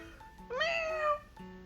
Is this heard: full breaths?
no